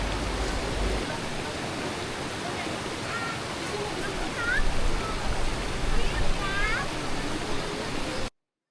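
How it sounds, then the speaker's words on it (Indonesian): River stream in front of a campsite at a Ciwidey, Bandung camping ground, a steady rushing wash of water with children's voices and playful shouts rising over it, louder in the middle before stopping abruptly. "Anak-anak sangat senang sekali bermain air di sungai di depan tenda kita."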